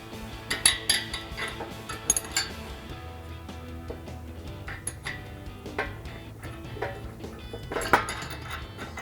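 Metal mounting nuts with lock and flat washers clinking onto the studs of steel side step brackets on a Jeep Wrangler JL, a series of sharp close taps and jangles at irregular intervals over a quiet background.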